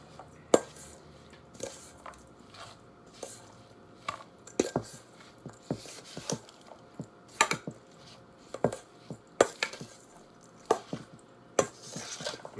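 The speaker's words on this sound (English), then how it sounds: "Mix it good. You want all that seasoning to be spread out evenly." A spoon mixing a wet, seasoned chickpea burger mixture in a bowl, giving irregular squishy knocks and scrapes against the bowl at a moderate pace, fairly close with no talking.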